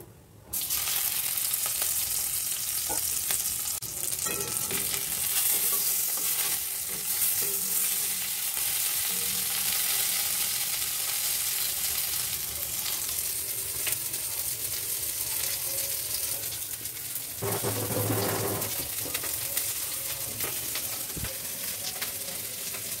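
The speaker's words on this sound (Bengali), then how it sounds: "তার জন্য এখানে মাছগুলো ভেজে নিচ্ছি" Rohu fish pieces fry steadily in hot oil, a dense continuous sizzle with occasional stirring clatter, holding loud and even throughout with a brief louder burst near the end.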